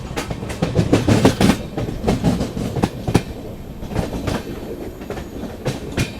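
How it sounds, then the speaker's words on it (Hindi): A long-distance express train pulls out of the loop line at Mansi Junction, its wheels clattering in a steady rhythm of close, loud clicks over the rail joints with no break. "लूप से निकाला जा रहा है अपनी ट्रेन को मानसी जंक्शन से"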